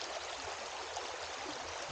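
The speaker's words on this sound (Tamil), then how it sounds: "எங்கேயோ ஒரு மேலே மலையிலேருந்து வருது தண்ணி." Water from a Nepal mountain river flows as a steady, faint broadband rush, unbroken and alone, without voices.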